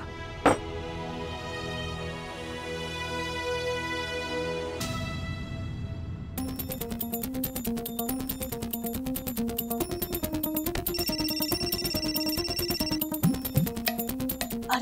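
A phone rings with a repeating electronic melody, loud and close, the tune changing partway through and continuing steadily without talk.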